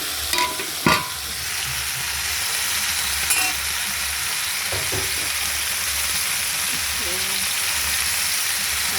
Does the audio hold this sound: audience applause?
no